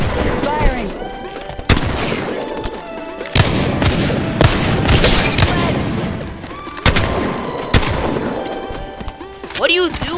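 Video game gunfire: sharp, loud shots crack out at irregular intervals amid a busy din of rattling fire, with voices speaking between bursts.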